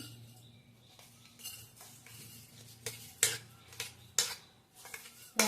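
Rice poured into a pressure cooker with ghee for chicken biryani, with light clinks and scrapes of a utensil against the metal pot, several sharp taps growing louder toward the end, and no speech.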